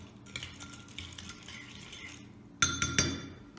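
A spoon stirs macaroni with water and a pinch of salt in a bowl, making soft scraping and tapping close by. It ends in a few sharper clinks against the bowl.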